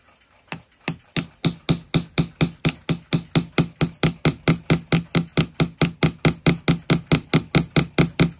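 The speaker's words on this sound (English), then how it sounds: "Hammering will also work harden the brass." Steady, rapid hammer blows on a brass bushing during restoration of a ship's clock movement, about thirty sharp metallic strikes in an even rhythm, close and loud with no talk.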